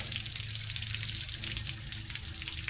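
Water rushes steadily from a hose hooked up to an overheating engine with leaking heads, a continuous close hiss with no breaks and no voices.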